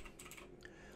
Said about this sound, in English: the sound you're hearing is my keyboard because I have to keep track of this stuff